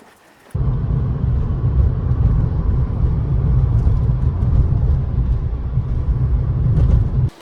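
A small lemon car drives along with a steady, loud, low engine and road rumble that holds without a break for several seconds.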